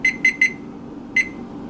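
A home microwave's timer is keyed in during ramen prep: three short, evenly spaced electronic beeps, a pause, then a fourth matching beep over a low background hum.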